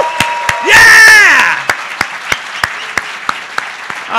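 A conference audience briefly cheers with a rising whoop over a swell of applause, then scattered claps continue, loud and close, with talk mixed in.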